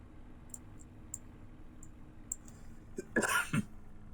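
A single sharp sneeze bursts out near the end, loud and close against a quiet background with faint ticking clicks scattered before it.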